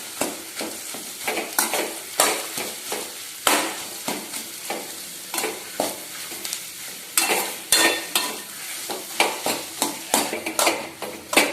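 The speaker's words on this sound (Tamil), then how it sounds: "இப்போ நம்ம உருளைக்கிழங்க மசாலாவோட சேர்த்து நல்லா கிளறி விட்டுக்கலாங்க." Potatoes are stirred and fried with masala in a pan for bread masala. A spatula scrapes the pan in a regular rhythm of about one stroke per second over a continuous sizzle, close and fairly loud.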